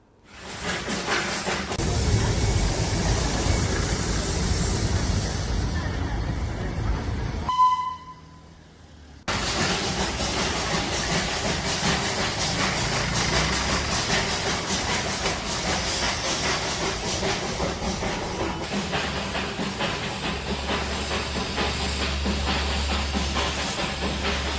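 Darjeeling Himalayan Railway steam train giving off a loud, continuous steam hiss and rumble, broken by a brief quieter gap before the hissing resumes steadily.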